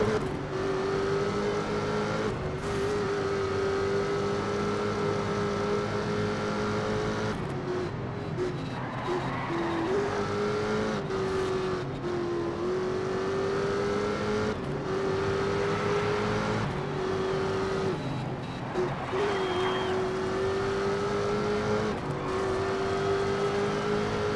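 Race car engines roaring continuously in the Race Driver Grid video game, a steady loud engine drone with gear-shift dips and occasional revving surges throughout, no talking.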